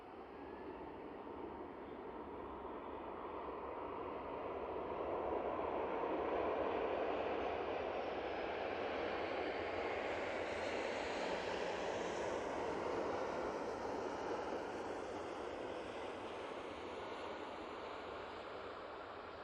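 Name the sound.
Ryanair airplane landing at Manchester Airport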